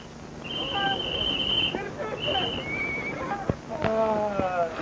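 A horse whinnies in shrill, wavering bursts, with hoof clops and people talking around it nearby.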